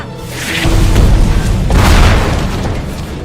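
A loud, heavy boom bursts out and rolls on, followed by a second rumbling blast, like a naval cannon firing close by, in the Yellow Sea.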